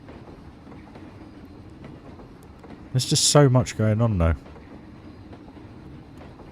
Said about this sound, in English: The train coming through in front of the house.